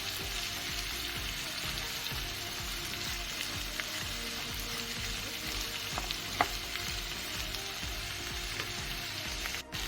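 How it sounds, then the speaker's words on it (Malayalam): Sliced ivy gourd (kovakka) sautéing in a pan on the stove makes a soft, continuous sizzle with faint pops and occasional stirring clinks, no voices. "എന്നിട്ട് നല്ലപോലെ ഒന്ന് വഴറ്റിയെടുക്കുക. കോവയ്ക്ക ഫ്രൈ നമ്മൾ ഇവിടെ തയ്യാറാക്കുവാണ്."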